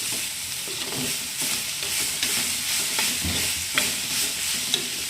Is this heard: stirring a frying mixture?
yes